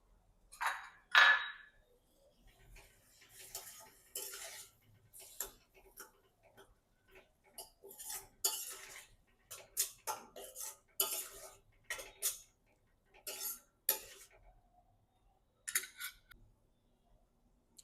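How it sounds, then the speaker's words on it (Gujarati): Tomatoes tipped into a pan of paneer bhurji, giving a run of scattered clinks and scrapes of a spoon against the pan, sharp and close, in uneven bursts with quiet gaps between them. "હવે આપણે ટામેટાં એડ કરી દઈશું."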